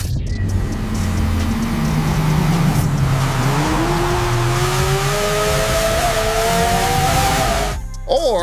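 A Lexus LFA EV plays a simulated V10 engine note through speakers, a continuous loud synthetic engine drone that climbs in pitch as if revving and accelerating, ending abruptly.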